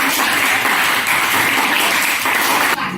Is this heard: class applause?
yes